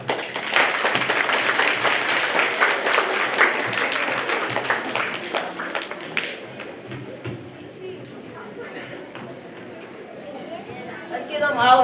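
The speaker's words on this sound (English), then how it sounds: "Let's give them all a round of applause." Audience applause at a school Black History program, dense clapping and cheering for several seconds that thins out, with chatter continuing underneath as it fades.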